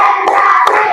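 A classroom of children claps hands in a counting clap game during an ice-breaker, a short burst with two sharp clap peaks over a brief spoken count.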